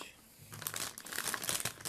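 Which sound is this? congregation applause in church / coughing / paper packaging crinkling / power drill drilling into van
paper packaging crinkling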